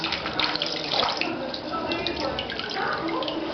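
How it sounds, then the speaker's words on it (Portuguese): Water splashes and runs steadily during a baby's first bath, a continuous close pouring wash that fills the whole moment without pause. "Quando for jogar água"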